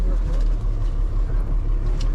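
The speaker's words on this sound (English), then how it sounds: "Listen to that engine purr." A Ukrainian armored MRAP car's engine runs nearby, a low, steady, throbbing idle with a slight choppy pulse, no voices.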